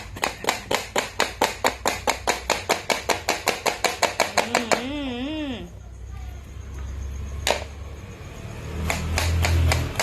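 A knife chops rapidly and evenly on a board, about four strokes a second, then stops as a voice speaks and a few clatters follow.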